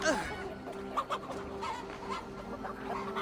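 Chickens cluck in Assassin's Creed Valhalla, a few short bursts near the start and around the middle over a steady game soundscape with low tonal hum.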